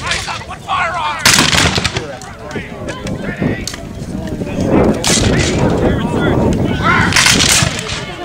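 Musket and rifle volleys at a Civil War reenactment battle at Fort Adams, Newport, Rhode Island, with sharp shots cracking out repeatedly amid shouted commands from the reenactors.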